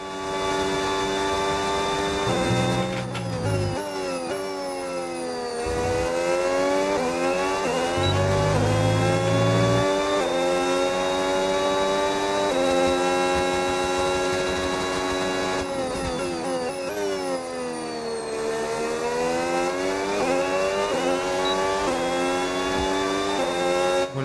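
Red Bull RB22 Formula 1 car screaming through a corner in the F1 game, its high-pitched engine sweeping down and back up through the gears, loud and continuous with no voices.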